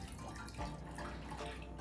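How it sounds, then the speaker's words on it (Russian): Milk pours into a saucepan for a cheese sauce, a close, soft, continuous liquid trickle with faint dripping over a low background hum. "В сотейник наливаю 200 мл молока."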